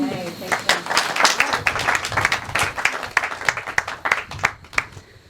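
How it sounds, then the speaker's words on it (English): Applause for volunteers at a volunteer recognition event, with dense, steady clapping from a group throughout and bursts of louder claps, under some talk. "I just wanted to add my thank you and applause to you"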